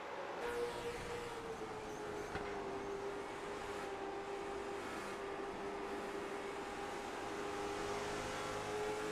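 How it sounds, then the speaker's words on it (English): Race cars accelerating around a track, a steady droning engine roar with a slowly shifting pitch, held at a constant level throughout and heard alone. "Back into the throttle."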